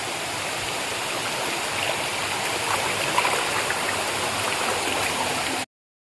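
Stream water in a hidden waterfall area near Samparidisha village in Assam rushes and gurgles in a steady, close, broadband wash, with no voices over it, ending abruptly.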